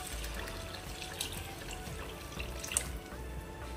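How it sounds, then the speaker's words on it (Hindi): Water pours steadily into a cooking pot of white chickpea curry, a continuous splashing gush with a few brighter splashes, close and fairly loud, with no talking. "अब इसमें हम पानी डालेंगे जितना हमें पानी चाहिए"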